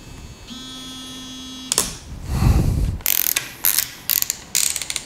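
Ratchet tightening screws while reassembling a Renault R5 Turbo 2 engine block: a hum first, then a rustle, followed by a rapid series of sharp metallic clicking bursts close by.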